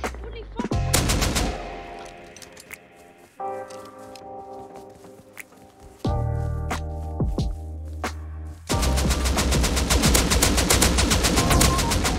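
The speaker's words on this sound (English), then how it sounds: "I'm getting shot from all directions." Gunfire in the video game Rust comes in loud, close bursts of rapid automatic shots, with sharp single reports in between and a sustained volley of fire at the end.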